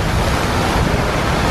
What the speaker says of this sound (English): It's very windy suddenly.